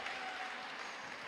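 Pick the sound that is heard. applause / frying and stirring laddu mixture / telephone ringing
applause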